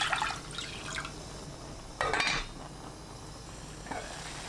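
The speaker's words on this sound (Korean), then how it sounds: "냄비에 물 1리터 넣고 끓입니다." Water poured into a cooking pot, heard as brief splashing and trickling bursts with a louder gush in the middle, close by in a quiet kitchen with no talking.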